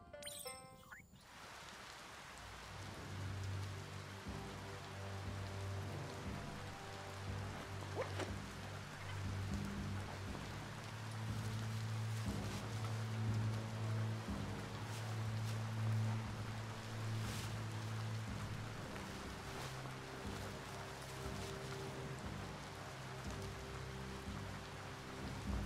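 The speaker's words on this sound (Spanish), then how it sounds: "Empieza a llover." Steady rain falls in the video game Biomutant, a dense continuous hiss with a low ambient music bed underneath and occasional faint tinkling drops, no voices.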